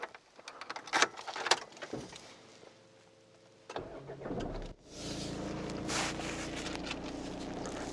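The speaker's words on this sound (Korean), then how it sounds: "시동 소리 또한 굉장히 스무스하게 잘 걸리고 있는 차량이고" A Renault Samsung QM6 from 2017 is started from inside the cabin. Clicks and handling noises come first, then the engine turns over and settles into a steady, fairly quiet idle that continues to the end.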